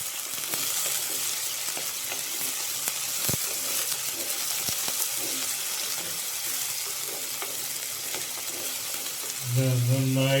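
Ingredients sizzle and fry steadily in a hot pan with curry leaves being sautéed for an ivy gourd (kovakka) thoran, a continuous close crackle with occasional stirring clatter and a brief louder burst near the end.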